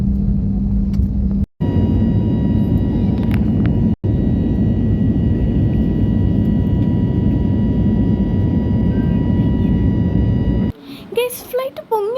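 Jet airliner taking off, heard from inside the passenger cabin as a loud, steady roar and rumble with two brief dropouts, then quieter cabin noise near the end.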